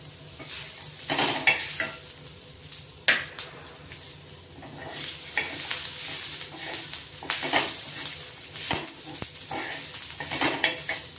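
Ginger pieces and garlic cloves frying with roasted onions in a pan for a village-style mutton curry: a continuous sizzle under repeated stirring, spoon scrapes and metallic clinks against the pan, close up with no talk.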